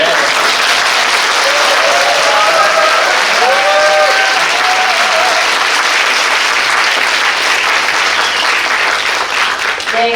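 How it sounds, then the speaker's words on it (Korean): Sustained applause from an audience at an annual program briefing of a learning support center for deafblind people, a dense steady clapping that fills the room for about ten seconds, with faint voices and tones audible beneath. "그래서 큰 박수로"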